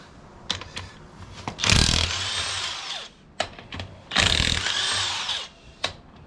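A DeWalt power tool works bolts while the head comes off a Ford 6.2L V8 engine, giving two whirring bursts of about a second each, broken up by sharp metallic clicks and clanks.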